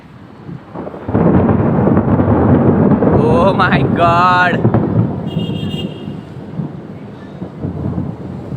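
A deep, sustained rumble of thunder during a lightning storm rolls across the whole clip, loud and broad, with a person exclaiming briefly partway through.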